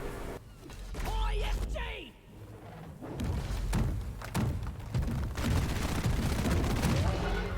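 Bursts of rapid gunfire from dual Zhukov submachine guns loaded with conductive bullets in Deep Rock Galactic, aimed at a Glyphid Oppressor and paired with an IFG grenade. Dense, loud volleys repeat in quick succession amid heavy game noise.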